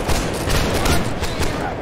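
Musket volleys crackle in a Holdfast: Nations At War line battle, a loud, dense burst of overlapping shots rolling on for nearly two seconds.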